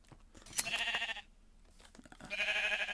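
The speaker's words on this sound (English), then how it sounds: "let's first shear these sheep because we always need wool" Sheep bleat in the Minecraft video game, two drawn-out nasal bleats separated by a brief quiet gap, each loud and close with no talking.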